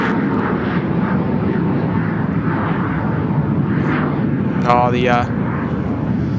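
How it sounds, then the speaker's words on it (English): A Pilatus PC-24 business jet banks through a right-hand turn near Sydney Airport, its steady engine roar filling the clip with a brief whine late on, while someone speaks over it. "Look at that, the PC-24. Give us a nice right-hand turn."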